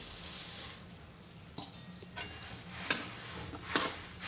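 Puffed rice being stirred into hot jaggery syrup in a pan gives a faint, steady sizzle with a few sharper scraping clicks of the spoon, heard alone without talk.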